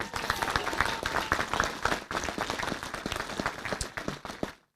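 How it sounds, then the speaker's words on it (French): Audience at a town mayor's New Year ceremony applauds honorees, a dense patter of many hands clapping steadily for several seconds before tapering off and stopping. "Et là, vous pouvez les applaudir."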